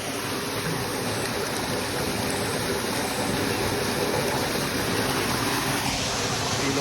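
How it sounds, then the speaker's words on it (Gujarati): Steady rushing water pours continuously, a broad constant splash of well water gushing from a pump motor outlet, with no voices. "મોટર ચાલુ રહે છે અને બીજા કૂવાનું પણ એક પાણી આવી રહ્યું છે"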